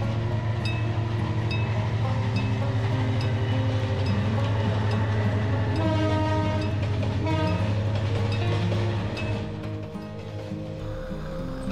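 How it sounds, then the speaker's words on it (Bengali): A train approaching a level crossing where motorbikes wait, its engine droning loud and steady with a long horn blast and clattering wheels, the rumble easing slightly near the end, no talk. "তো ট্রেন আসতেছে"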